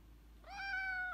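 A cat gives a single drawn-out meow, close and fairly quiet, rising out of a hushed indoor room and holding steady to the end.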